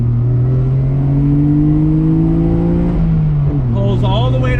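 A 1993 Nissan Skyline GTR R32 V Spec twin-turbo engine revs up steadily with a rising, smooth drone, then shifts and pulls again, loud and close.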